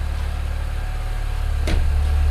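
A BMW N54 335i fitted with Chinese 17T hybrid turbos, new inlets and fresh turbos, idles steadily after sitting a week, a low constant engine drone with a brief sharper burst near the end.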